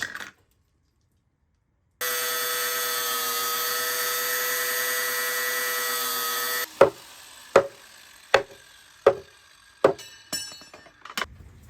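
Steel rebar cut with a power tool, a sustained loud whining grind for several seconds after a short silence, then a series of sharp metallic clanks as pieces are struck or dropped.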